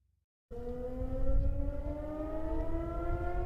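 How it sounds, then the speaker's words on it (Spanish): An air raid siren starts abruptly after a moment of silence and wails steadily, its tone slowly rising, loud and continuous with no voices. "Las sirenas antiaéreas son parte de la vida cotidiana"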